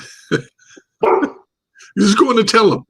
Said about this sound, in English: my dog wants to have his say in the matter.